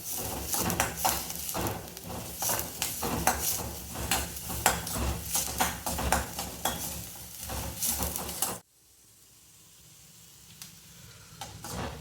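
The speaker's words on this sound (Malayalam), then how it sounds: "നമുക്കൊന്ന് സവാള ഒന്ന് നിറം മാറുന്ന വരെ ഇളക്കി കൊടുക്കാം." Onions are stirred in a pan, with rapid scraping and clinking of a spoon against metal over a steady sizzle, close and busy for about eight seconds before cutting to a quiet, hissy background.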